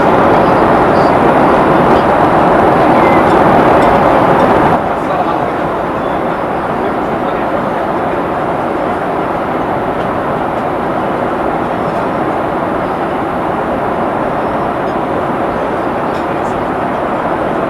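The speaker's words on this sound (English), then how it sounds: "the seatbelt sign just came up again and the entire aircraft is shaking" Steady, loud broadband roar of an airliner cabin shaking in turbulence on a flight to Bali, continuous throughout with a slight drop in level after the first few seconds.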